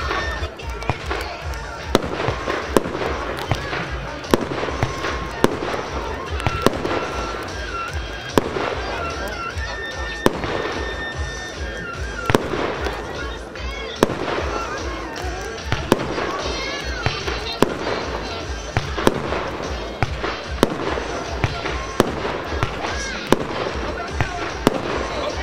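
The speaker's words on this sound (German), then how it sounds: "als nächstes das Schlangenauge, Snake Eyes, ebenfalls 25 Schuss, volle 500 Gramm Netto-Explosivmasse." A 25-shot Evolution Snake Eyes fireworks battery with 500 grams of net explosive mass fires a rapid, regular series of loud bangs and crackling bursts throughout, with someone talking over it.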